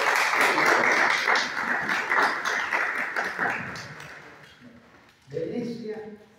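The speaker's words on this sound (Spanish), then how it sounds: "pido un profundo aplauso para el señor Pilacides." An audience gives a speaker a strong round of applause, dense clapping that swells and then slowly fades over about five seconds before a voice begins speaking.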